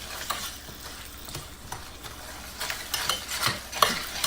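Butter and brown sugar stirred in a pan as they melt, making a soft continuous sizzle with scattered scraping and clicking from the utensil, close by and without talk.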